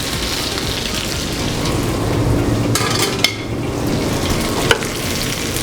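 Julienned shallot and sliced garlic fry alongside browning gnocchi in a pan, a dense, even sizzle like rain with a couple of brief utensil clacks, close and steady throughout.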